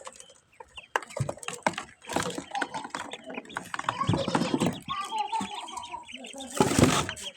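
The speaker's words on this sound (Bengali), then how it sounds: "এখন আমরা হাঁসের ছানাগুলোকে ছেড়ে দেব" Ducklings released from confinement peep and cheep in quick, overlapping bursts, fairly close and moderately loud, with a short louder flurry near the end.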